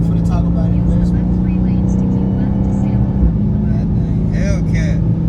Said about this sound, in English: Hellcat.